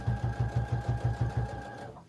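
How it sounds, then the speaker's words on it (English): A Brother sewing machine stitches down a piece of fabric for a quilted phone pouch, a quick regular run of about nine mechanical thumps with a steady motor hum beneath, close and clear. "I'm going to stitch it down to this piece of fabric"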